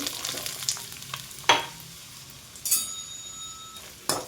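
Ginger pieces fry in hot oil for an ingrown mango-ginger pickle, giving a steady soft sizzle broken by a few sharp stirring scrapes and clinks near the pan; no one speaks.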